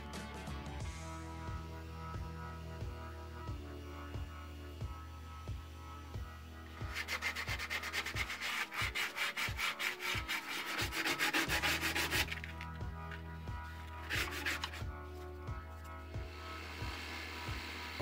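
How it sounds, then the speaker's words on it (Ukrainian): Wood being sanded while building a wine and snack serving table, a quiet steady rubbing hum broken by a louder burst of rapid scratchy strokes in the middle and a shorter burst near the end. "І знову шліфовка."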